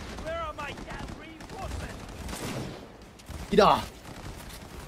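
Rapid gunfire bursts in Cyberpunk 2077 crackle beneath a player's excited shouting, with one louder volley landing near the end.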